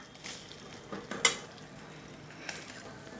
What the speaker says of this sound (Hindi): तो दोस्तों केले को अच्छे से ऐसे तोड़ देंगे ताकि वो जो है जल्दी से पिघल जाए और उसमें मिक्स हो जाए